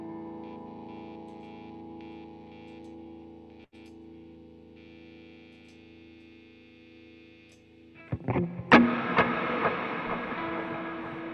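Electric guitar run through a Blues Breaker overdrive pedal with delay and reverb, held sustained notes ringing for several seconds, then louder strummed overdriven chords that bloom and trail off in echoes; no talking.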